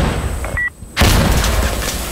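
A single loud, deep grenade launcher blast in the first-person shooter Insurgency Sandstorm, sudden and close, followed by sustained rumbling and battlefield noise with no talk.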